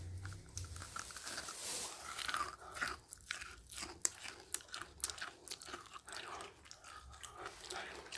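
Crisp crunching bites of crunchy lemon-looking jewel jelly, crisp outside and moist inside, followed by repeated close-up chewing, with sharp crackly snaps in a steady rhythm and no talking.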